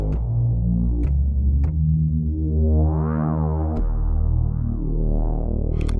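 Sustained synthesizer tones through high-quality analog-modelled subtractive filters, the filter sweeping open and closed, rich buzzy harmonics, loud and continuous with no voices.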